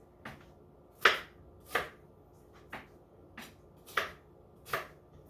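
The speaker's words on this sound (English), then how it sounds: "I'm going to use it to just cut like sort of large chunks of my pepper and onions" A Tupperware chef's knife chops pepper and onions into large chunks on a board, seven crisp, separate cuts at an uneven pace, close and fairly quiet with no talking.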